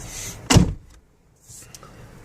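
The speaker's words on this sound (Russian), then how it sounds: "Дверь снимается просто вверх," A door is lifted off a Jeep Wrangler Sahara by hand with no tools: one sharp, loud metallic clunk, followed by quieter rattling and handling noise, with no talking.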